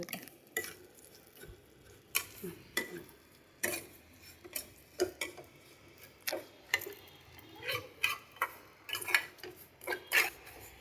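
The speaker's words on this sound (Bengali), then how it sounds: "এটা আমি ঘি দিয়ে একটু নাড়াচাড়া করে নেব ভালো করে নেড়ে ভেজে নেব" Vermicelli being stirred and fried in ghee in a pan, with repeated scraping and clinking of a utensil against the pan in an irregular rhythm over a faint background, close and moderately quiet.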